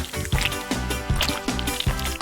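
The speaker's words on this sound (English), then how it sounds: "Ooh, gummy bears. They're so cute. Let's melt them. Gotta love the way it all bubbles up." Melted gummy bears bubbling in a pot, wet popping blips and soft gloopy plops at a steady irregular rhythm, close and moderately loud.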